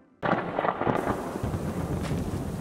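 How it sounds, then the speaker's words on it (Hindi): Heavy rain starts abruptly and pours steadily, a dense, loud broadband roar with deep rumbling underneath, no voices. "अरे बहुत बारिश है,"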